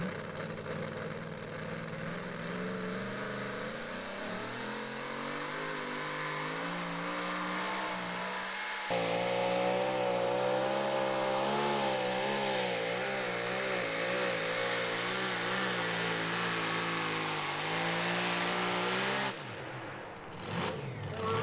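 A two-wheel drive pulling truck makes its run at a truck and tractor pull, its engine roaring loud and sustained with wavering revs, surging heavier partway through before cutting off abruptly near the end.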